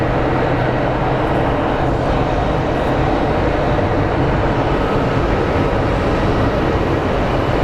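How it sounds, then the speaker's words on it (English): A Southwest airliner arriving from Denver at Phoenix Sky Harbor airport, its broad, steady jet roar filling the scene at a constant loud level with no talking. "up next we have Southwest 3849 coming in from Denver"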